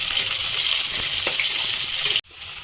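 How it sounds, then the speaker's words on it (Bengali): Fish pieces frying in hot oil until reddish, a loud, dense crackling sizzle running continuously up close before a sudden cut, then quieter frying. "পিসগুলো এরকম করে লাল লাল করে ভেজতে হবে"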